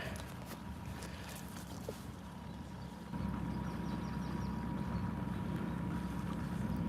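A boat cruises slowly across a lake toward an island, its steady low engine drone continuous throughout and growing slightly louder partway through, with no talking.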